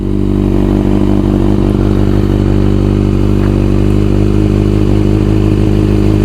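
A motorcycle with an Akrapovic carbureted exhaust fitted with a servo valve idles loudly and steadily up close, its exhaust giving a deep, continuous rumble with a slight rattling texture.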